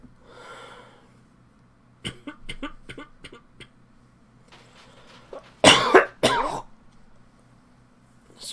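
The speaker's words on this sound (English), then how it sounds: "Just can't shake the cough today." A person coughs and clears their throat in several bursts: a faint breathy sound first, then a series of short, sharp coughs, and finally two loud, harsh hacking coughs close to the microphone.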